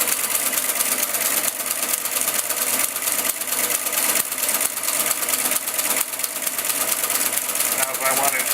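A Friden Flexowriter types from a punched test tape, making a loud, continuous, rapid mechanical clatter with a steady motor whir beneath, close and unbroken for the whole stretch.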